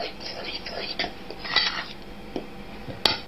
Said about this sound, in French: Vous allez prendre une fourchette et non pas un fouet pour mélanger l'ensemble et bien répartir la levure